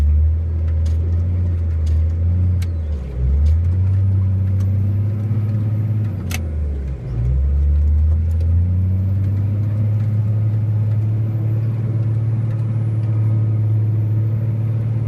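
A Cat 980H wheel loader's diesel engine drones steadily up close as its grapple unloads logs from a truck, dipping and surging twice as it works, with occasional faint clunks over the rumble.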